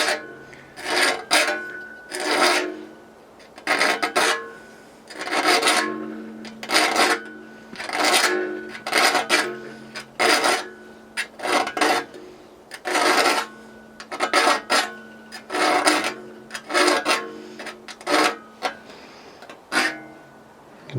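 A hand file rasps across the teeth of an old handsaw, one tooth at a time, in a long run of short, crisp scraping strokes grouped in quick bursts with brief pauses between, close and fairly loud, no talking.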